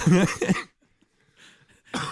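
Two quick, close coughs in a row, then near silence with faint rustling before another burst of sound.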